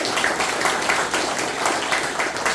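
Dense, continuous applause from a church congregation fills the space, a broad wash of many hands clapping at an even level throughout, with no talk over it.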